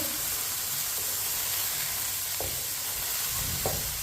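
Finely chopped cabbage and fresh peas stirred in a hot pot, a steady sizzle with a few soft scrapes and knocks of a spoon, close and with no talk.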